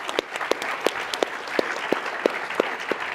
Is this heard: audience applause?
yes